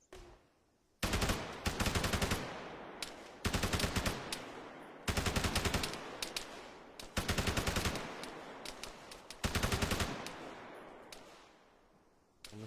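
Bursts of automatic gunfire in the online shooter Operation Saber Strike 2, loud, close and alone, coming in four or five sustained volleys separated by short pauses.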